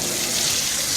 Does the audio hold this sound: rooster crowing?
no